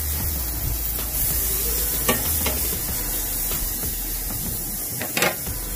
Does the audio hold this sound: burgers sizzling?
yes